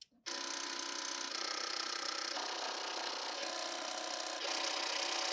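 An Amber Air S 600 overlocker whirs and rattles mechanically as it calibrates itself at power-on, a steady, loud, close-up motorised hum after a brief silence, shifting in tone partway through.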